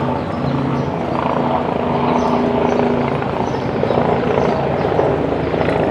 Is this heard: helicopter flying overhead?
yes